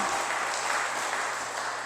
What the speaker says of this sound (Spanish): aplauda lo que él vive